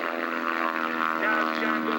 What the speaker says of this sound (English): And look at that airplane recover out there about 5 feet off the runway.